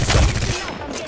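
Rapid gunfire in Apex Legends, a dense burst of shots crackling close by for about half a second before tailing off.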